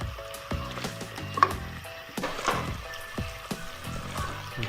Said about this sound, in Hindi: मिक्स करेंगे इसे, भून लेंगे तकरीबन 3 से 4 मिनट के लिए मज़ीद